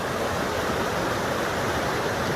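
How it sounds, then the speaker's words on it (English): A river roars past large, heavy boulders outdoors, producing a steady, loud, close rush of broadband water noise that holds unchanged throughout. "Roaring water"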